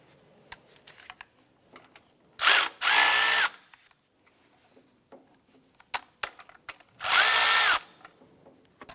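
Power tool or ratchet wrench loosening the belt tensioner on a 2001-2005 Honda Civic engine: two loud whirring bursts of about a second each, separated by quiet stretches with faint clicks and handling noises, no talk.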